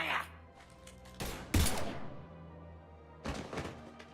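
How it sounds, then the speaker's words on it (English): Gunfire breaks out in Mass Effect 3, with several loud, sharp bursts and blasts spread across a few seconds and quieter gaps between them. "Now open fire!"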